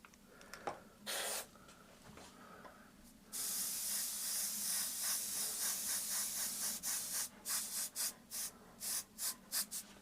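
An airbrush sprays paint in hissing bursts, a couple of short puffs first, then a long steady spray that breaks into a series of quick pulses, close and fairly quiet.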